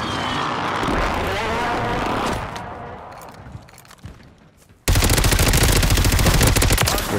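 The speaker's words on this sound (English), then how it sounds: "Like, I'm getting shot at by 30 people." Gunfire in a Warzone 3 match on Rebirth Island, with a rumbling mix of game noise, then a sudden loud stretch of rapid automatic fire that dominates the end.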